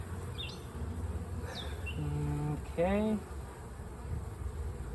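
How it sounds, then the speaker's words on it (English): Honey bees buzzing steadily around an opened hive, a low continuous hum heard up close, with a brief spoken word and a couple of short voiced sounds over it. "A lot of bees. Look at them moving around."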